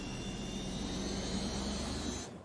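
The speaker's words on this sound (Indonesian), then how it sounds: "Di dalam pesawat" A jet airliner in flight gives a steady broadband roar with a faint high whine inside the cabin, constant for over two seconds before fading at the end.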